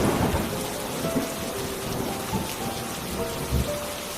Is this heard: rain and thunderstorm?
yes